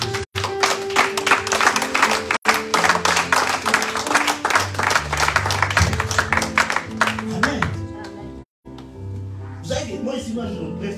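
A church congregation claps and cheers in acclaim of Jesus, with dense sustained applause and rhythmic hand claps under music and voices, briefly cutting out near the end before resuming.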